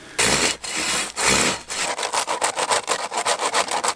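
A handsaw cuts through wood at a desert bushcraft camp, starting with a few long, loud strokes and then settling into a quicker, steady back-and-forth rhythm.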